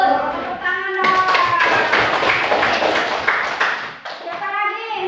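Schoolchildren in a primary classroom burst into a dense, quick patter of hand clapping lasting a few seconds, with young voices chattering just before and after.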